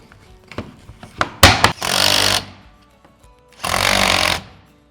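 A power driver sets screws into the end cap of a Lifetime 7' x 7' Architect Series outdoor storage shed, with two loud, close whirring bursts of about a second each, separated by clunks and handling noise.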